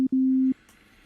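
A pure sine-wave tone from the Yonac Magellan 2 synth oscillator, heard as two short steady beeps with a tiny gap between them, the second lasting about half a second, then quiet.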